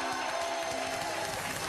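Studio audience applause on a French TV quiz show, a steady, even wash of clapping throughout the short moment.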